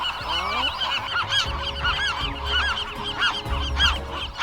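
Several geese on Anacapa Island in the Channel Islands honk repeatedly in overlapping nasal calls, loud and close, with a restless, uneven rhythm and no talking.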